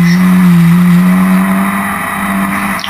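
Historic Formula Ford race car at Brands Hatch, running flat out up towards the Surtees left-hander: a loud, steady, near engine drone holding one high pitch throughout, fading slightly at the end, with no talk.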